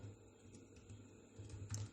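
A terminal command, sudo snap install Arduino, is typed on a Linux computer keyboard: soft, close key clicks in an uneven run, faint throughout with a few slightly firmer taps near the end and no talking.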